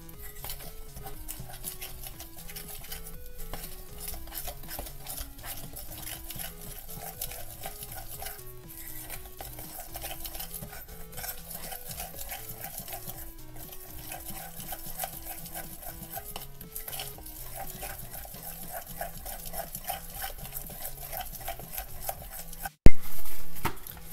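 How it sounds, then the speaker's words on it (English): Dorayaki pancake batter stirred steadily in a bowl, a continuous scraping and sloshing at close range with a faint musical backing, ending in a sudden loud knock. "mix everything that's in your bowl completely until you get a smooth batter"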